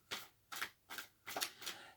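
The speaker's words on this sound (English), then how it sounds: "I'm already shuffling" A deck of tarot cards being shuffled gives five soft, quick riffling bursts at a fairly even rhythm, quiet and close with no talking.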